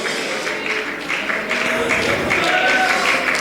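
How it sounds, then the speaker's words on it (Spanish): Congregation applauding during a Sunday school church service, moderately loud clapping with a busy, uneven texture and some voices mixed in underneath. "Dele aplausos al Señor."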